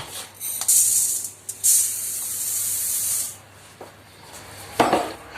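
Rice being rinsed under running water, a strong hissing spray that starts, pauses and resumes, then fades to a softer trickle before a brief splash at the end.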